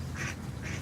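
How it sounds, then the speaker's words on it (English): Ducks quack in two brief raspy bursts over a steady low rumble, close and fairly loud, with no talk. "Oh, the ducks are laughing at you."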